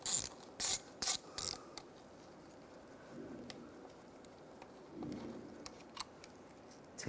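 Ratchet clicks in a few quick loud bursts near the start while a bolt is removed from a 2005-2010 Chevrolet Cobalt during a clutch job, then quieter scattered ticks and handling noise.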